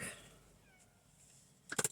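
A short black cat's meow bursts out near the end after a quiet stretch, loud and close, inside a car.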